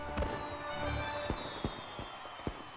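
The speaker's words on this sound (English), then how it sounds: "Yay, fireworks." Fireworks in the video game Stonehearth pop in a few sharp, separate bursts over a steady tonal backdrop, moderately loud and spaced irregularly across the moment.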